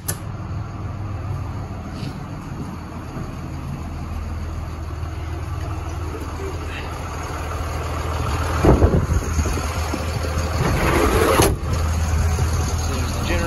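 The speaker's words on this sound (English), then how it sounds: "There's the generator that operates as it should." A generator running on a 2000 Freightliner MT45 step van produces a steady mid-pitched engine drone throughout, with a few knocks and rattles nearby.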